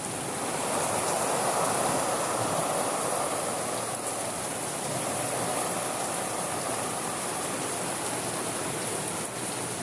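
Heavy rain pours down in a backyard during a thunderstorm, a dense, even hiss that holds steady throughout, with no thunder or voices.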